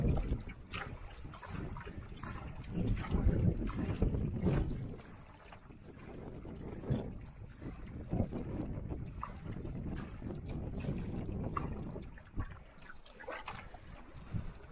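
Gusting wind buffeting the microphone while paddling a canoe on a wilderness lake near Lake Lila, a constant low rumbling roar with water lapping and occasional knocks, no talking.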